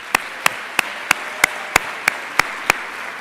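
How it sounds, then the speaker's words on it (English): Sparse, evenly spaced single claps at a graduation ceremony, about nine sharp hand claps in slow rhythm, close and clear against a quiet room. "let's give a round of applause to all of the supporters you've had this year"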